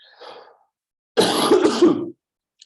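A faint short throat sound followed by a harsh, louder cough burst lasting under a second, close to the microphone, with silence around it.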